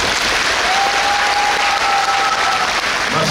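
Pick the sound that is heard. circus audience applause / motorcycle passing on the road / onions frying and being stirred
circus audience applause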